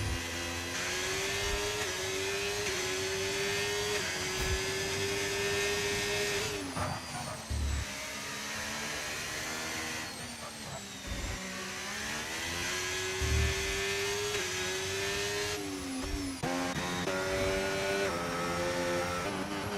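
Race car engines rev and whine in a racing video game at the Singapore Grand Prix, a steady loud drone with rising and falling pitch as the cars shift gears, with no talk.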